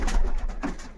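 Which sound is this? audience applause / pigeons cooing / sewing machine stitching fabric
pigeons cooing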